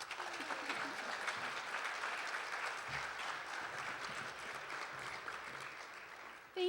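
Audience applause welcoming a speaker at a 2016 children and youth issues briefing, steady sustained clapping from a room of people throughout, fairly soft and even.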